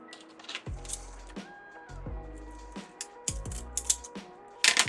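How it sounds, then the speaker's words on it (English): Scissors cut through deco mesh in a series of crisp snips and crunches, several close cuts spaced irregularly with light rustling of the mesh between them. "I'm gonna cut mine at like 20-ish."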